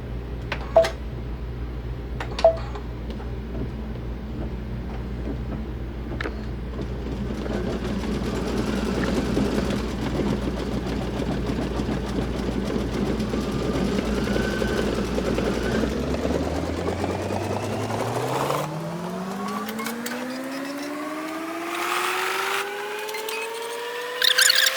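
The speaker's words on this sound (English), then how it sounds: "now we're changing over to the red thread so it can stitch out the berries" A SewTech embroidery machine with a 6x10 magnetic hoop stitches red thread, a steady mechanical hum with a low motor drone and faint clicks, ending as the motor winds down with a rising whine.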